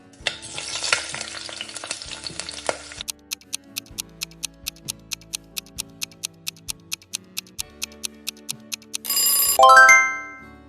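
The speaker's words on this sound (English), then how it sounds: "It is food frying in oil." Food frying in hot oil makes a dense crackling sizzle for about three seconds, then a steady run of clicks and a brief ringing tone follow.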